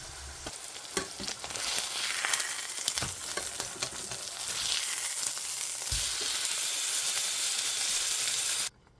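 Chips deep-frying in hot oil, a steady dense sizzle with occasional stirring clatters, close and loud throughout, cutting off abruptly at the very end.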